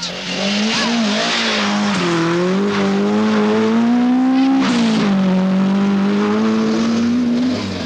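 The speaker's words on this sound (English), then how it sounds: "Second in the seeding, McRae and Nicholson, Vauxhall Chevette." A 1979 Vauxhall Chevette rally car with over 300 horsepower accelerates hard away from a night stage start on the Manx Rally, engine note climbing through gear changes, loud and close throughout.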